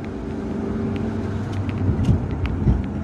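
Cars idling and creeping in a traffic jam on a road near a protected forest between Maros and Bone, Indonesia, a steady close engine rumble with passing vehicle noise.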